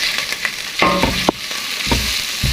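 Garlic paste frying in hot oil in a pan, a close sizzle broken by short stirring scrapes and clinks of a spoon against the metal.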